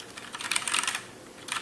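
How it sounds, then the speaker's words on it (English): Typing on a Tt eSPORTS Poseidon Z mechanical keyboard with brown switches gives a quick, soft run of key clicks in bursts, close and fairly quiet, with no talking. "So it's a great typing keyboard, seeing how it isn't so loud."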